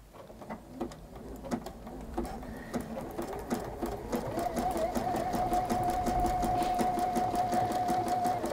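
A sewing machine runs steadily, stitching fabric for English paper piecing on a hexagon-based bishop's hat pouch, its motor whirring with a rapid needle patter that holds a continuous hum, with no talking over it.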